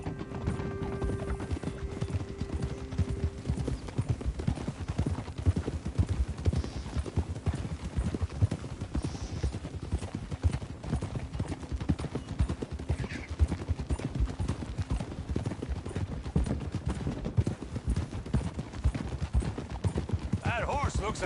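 Horse hooves clip-clop at a steady walking pace in the game Red Dead Redemption 2, a continuous rhythmic clatter close by under people's conversation, with an occasional faint whinny.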